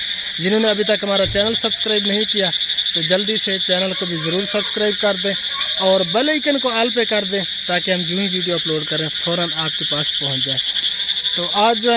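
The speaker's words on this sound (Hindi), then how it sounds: "ना मेंढकों का शोर आप सबको सुनाई दे रहा होगा," Frogs croak loudly after night rain, a dense rhythmic chorus of repeated calls under a steady high insect-like trill, while someone talks continuously over them.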